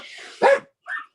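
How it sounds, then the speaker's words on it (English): A dog barks indoors, one sharp loud bark followed by a shorter, softer yip, close to the microphone. "my dog's so loud"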